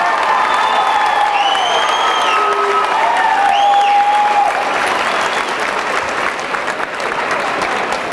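A convention crowd at a 1988 Denver costume contest applauds and cheers, loud sustained clapping with a few whoops, gradually thinning toward the end.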